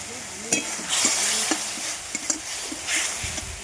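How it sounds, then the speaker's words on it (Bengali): Spice paste for a fish curry sautés in a pan with turmeric and salt, giving a steady sizzle broken by several sharp scrapes and clinks of a spoon stirring against the pan, close and alone. "এবার কষে নেব মশলাটা"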